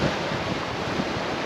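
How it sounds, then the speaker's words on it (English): Steady wind picking up on the shore at Beadnell at night, a constant broadband rush with waves and buffeting against the microphone, fairly loud and continuous with no voices. "The wind is starting to pick up a little bit."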